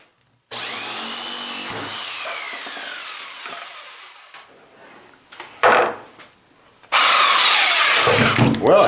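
A jigsaw cuts into a vent with a loud, close, whining buzz that runs for a few seconds and fades. Brief rattles follow before a second strong burst of cutting.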